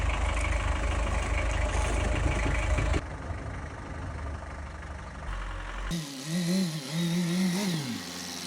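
A front-wheel-drive 2017 Opel van engine running steadily through a U-turn, a loud, dense rumble that shifts character partway and ends with a wavering, rising and falling tone, no voices.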